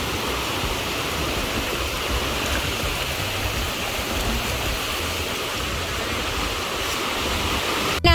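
A stream or waterfall rushes on in a steady, close, unbroken roar of flowing water, without a pause and with no one speaking.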